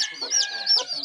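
An Aseel fighter rooster clucks and crows close up, the harsh bird calls repeating in short bursts with no pauses between them.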